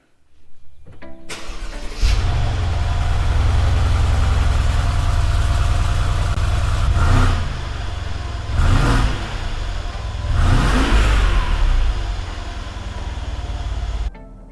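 A Mercedes E550 4Matic with a biturbo V8 fires up with a starter whir, settles into a deep, steady idle, then pulls away with several rising surges of engine noise. The car is close, loud and continuous, and no one speaks.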